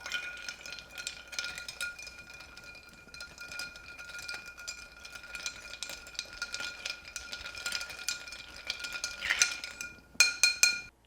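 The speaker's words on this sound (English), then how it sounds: "Now stir until well chilled." An Old Pal cocktail with dry vermouth stirred over ice in a mixing glass: a steady, soft tinkle and clink of ice against glass runs throughout, growing louder and busier toward the end, with a few sharper knocks.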